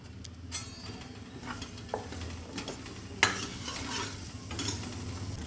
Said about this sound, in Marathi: त्याच्यामध्येच आपल्याला पनीर पण तळून घ्यायचे।